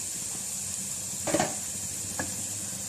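Egg noodles tossed and stirred with vegetables in a pan for chicken chopsuey, with a faint steady sizzle and two short scraping clatters.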